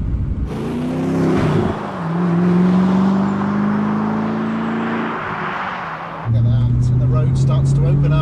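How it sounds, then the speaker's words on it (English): A Ford GT supercar engine hums and drones steadily while driving, rising through a gear and then settling into a louder, deeper tone near the end, with someone talking over it. "Driving a Ford GT"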